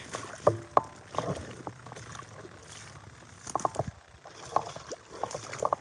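Someone wades through deepening floodwater in rain-soaked woods, with irregular sloshing and splashing steps coming in bursts and pausing briefly in between.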